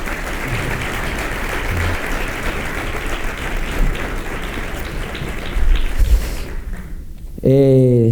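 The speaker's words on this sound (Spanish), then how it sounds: "le damos a ellos un fuerte aplauso" Audience applause at a Spanish debate on journalism, a sustained wash of clapping that fades near the end before a voice begins speaking.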